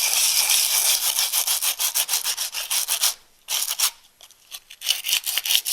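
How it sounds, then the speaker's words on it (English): Sandpaper worked by hand over a handmade wooden bowl, loud, close rasping strokes in a steady back-and-forth rhythm, briefly pausing before resuming with shorter strokes. "That's where the sandpaper comes in. So I just merely sand and sand and sand."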